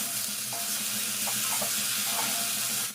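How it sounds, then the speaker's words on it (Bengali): Chopped banana flower fries in a pan with turmeric and salt, giving a loud, steady sizzle throughout with soft stirring scrapes close by and no talking. "ভাজা ভাজা করে নেব।"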